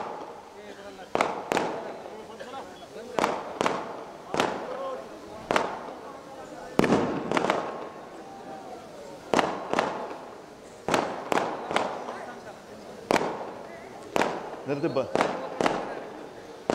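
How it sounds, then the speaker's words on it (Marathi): Firecrackers burst repeatedly at an outdoor political rally addressed by the Shiv Sena chief in Bhoom, sharp loud cracks coming every second or two over crowd noise and someone speaking through a loudspeaker. "एक फटाके बंद करा रे"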